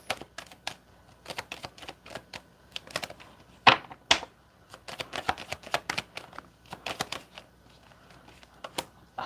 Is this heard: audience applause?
no